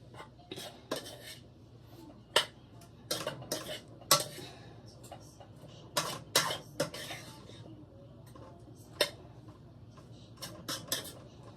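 A utensil stirs simmering vegetables and bell peppers in a pan for veggie spaghetti, giving irregular clanks and scrapes against the metal over a low background, with a few sharper knocks spread through the stretch.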